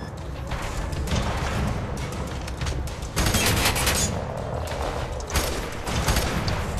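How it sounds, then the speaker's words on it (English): Rapid automatic gunfire and mechanical clatter in the first-person shooter FEAR 3, a dense continuous barrage with heavier bursts partway through, loud and close, no talking. "Where does the shooting come from?"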